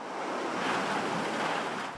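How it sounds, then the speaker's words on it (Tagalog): Strong typhoon wind from Typhoon Ofel lashes trees in Santa Ana, Cagayan, a steady, loud broadband roar that swells slightly midway and holds with no voices. "Halos iwas-iwas ng malakas na hangin ang mga puno sa bayan ng Santa Ana sa Cagayan"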